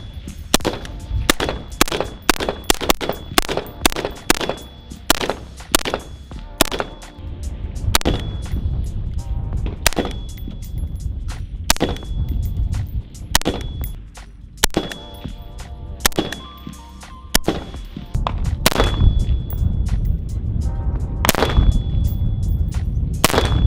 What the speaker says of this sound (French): tirer avec un ACR, c'est juste cool